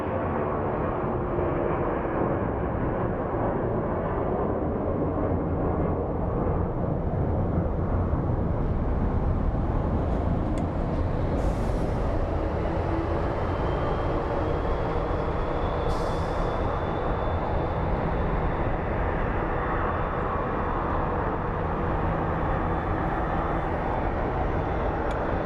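Loud, steady roar of airliner jet engines at Phoenix Sky Harbor International Airport rumbling for the whole stretch, a broad continuous wash of noise close by, with no talking.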